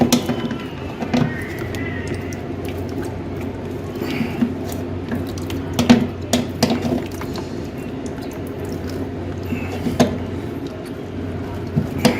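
Water drips from the back of a window air conditioner in a faint, irregular series of small taps over a low steady mechanical hum, with a few sharper clicks scattered throughout.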